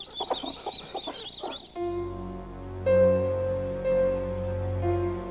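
Chickens cluck in a quick run of short, close calls for a couple of seconds before sustained musical tones take over.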